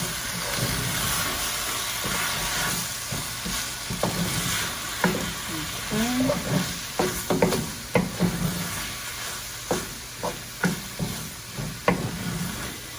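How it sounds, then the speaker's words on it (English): Taco seasoning is stirred into tofu and potatoes frying in a pan, with a steady sizzle under scraping stir strokes and a run of sharp spoon taps on the pan toward the end, close and fairly quiet. "Taco seasoning. Stir that in."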